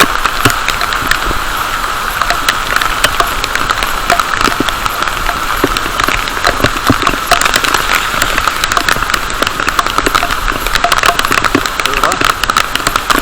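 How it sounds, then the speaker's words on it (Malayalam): Steady rain patters and hisses throughout, with someone talking over it. "ഇത്ര നേരം നമ്മൾ നിന്നപ്പം കിട്ടിയ മഴ തന്നെയാണ്. വീണ്ടും ആ മഴ പെയ്തിട്ടുണ്ട്"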